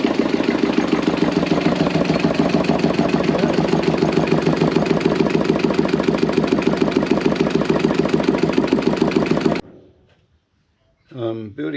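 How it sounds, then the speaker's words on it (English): A boat motor runs steadily with a fast, even chugging pulse for about ten seconds, loud and close, then cuts out abruptly, followed by brief silence and a short burst of talk. "I've got the motor running"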